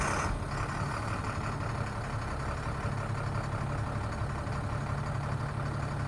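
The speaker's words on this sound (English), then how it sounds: "So I'll go ahead and turn the key here and start it up so you can watch the gauges" A 2005 Altec AA600L truck engine idles with a dense, steady low rumble, loud and close throughout with no pauses and no voices.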